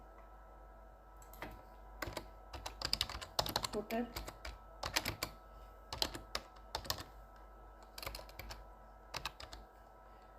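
Clicky keyboard typing comes in irregular bursts of keystrokes, close and crisp, with a voice speaking briefly between them.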